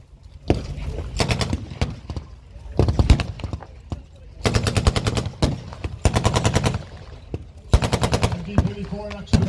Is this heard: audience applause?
no